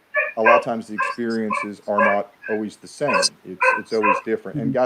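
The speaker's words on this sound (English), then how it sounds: "So I apologize for the dog barking." A dog barks and yips in short bursts in a house during a live paranormal-themed show, mixed in under continuous close talking.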